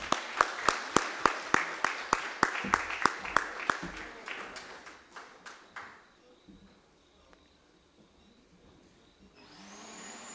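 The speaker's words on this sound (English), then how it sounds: "Let's get the claps going, ladies and gentlemen." An audience at a university Vice-Chancellor's distinguished awards ceremony applauds an award recipient with loud, evenly spaced rhythmic clapping that fades after several seconds into near quiet.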